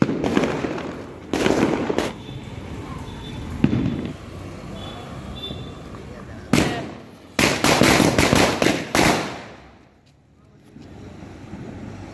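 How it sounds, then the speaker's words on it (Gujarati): A string of Diwali firecrackers bursts outdoors: a few single loud bangs come first, then a rapid volley of sharp cracks before quiet returns, with people's voices heard in between. "તો આ એક લૂમ ફોડાઈ દો"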